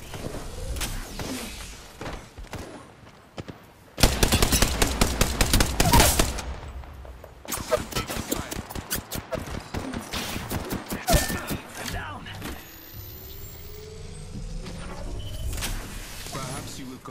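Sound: gunfire in the video game Apex Legends

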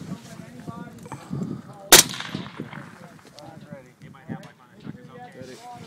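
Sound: sniper rifle shot at long range metal target

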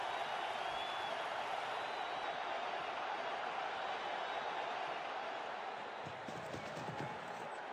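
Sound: crowd cheering in cricket video game WCC3

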